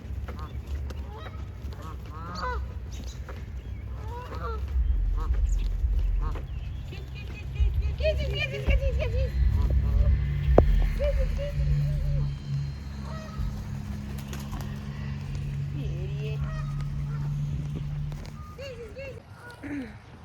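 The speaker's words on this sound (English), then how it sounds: "with the herd of geese behind us" A flock of geese honking on a city nature walk, repeated nasal honks from several birds at middling distance over a low rumble of outdoor background noise, with people talking now and then.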